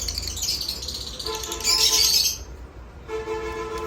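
Caged pet birds, fancy pigeons and lovebirds kept for sale, give bright chirps and tweets in a busy burst with a louder flurry in the middle, fairly close and without talk.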